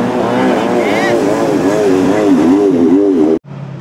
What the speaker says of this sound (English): Comes some kind of jet boat or something.